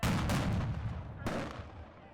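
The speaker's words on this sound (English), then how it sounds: "Some fired fireworks at law enforcement." Fireworks fired at law enforcement during a street protest: two loud, booming blasts about a second apart, each followed by a long rumbling decay over crowd and street noise.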